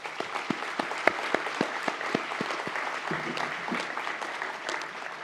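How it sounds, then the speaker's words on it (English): Graduation ceremony audience applauding graduates, a dense, steady wave of clapping from a large hall with a few sharp individual claps standing out near the front. "please join me in applauding our graduates for their achievements"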